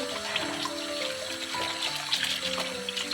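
Running water rinsing meat for sirken kavurma, a steady close splashing stream with clattering handling of the pieces throughout, no voices.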